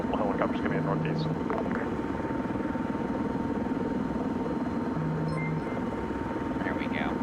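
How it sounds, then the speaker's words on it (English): Helicopters approaching in the military video game Arma 3, a steady rotor and engine drone filling the whole stretch, loud and constant, with voices and radio-style beeps over it. "multiple helicopters coming in northeast"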